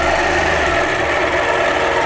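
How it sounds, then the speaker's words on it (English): A sewing machine stitches into the corner of a quilt block with a steady, close, continuous motor whir and needle buzz that runs unbroken throughout, with no talking. "I'm going to take another stitch into that corner just so everything lines up quite right."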